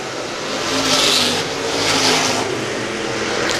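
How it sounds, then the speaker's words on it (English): 350 Supers race cars roaring past at Star Speedway, engines rising and falling as two cars pass close by in quick succession, loud over a steady background of track noise. "2 cars racing for position, 10 to go at the line"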